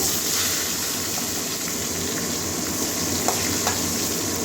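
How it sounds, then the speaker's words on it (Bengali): Constant crackling sizzle of pointed gourd frying in a pan, even and moderately loud with a few faint clinks, no talking. "কাঁচা গন্ধটা যাওয়া পর্যন্ত ভাজবো পটলটা ভাজা হয়ে গেছে"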